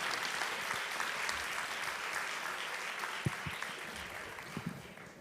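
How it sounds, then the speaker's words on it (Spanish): A room of people at a conference session on European recovery funds claps steadily, a dense, even applause that carries on throughout at a moderate distance. "Pues un aplauso"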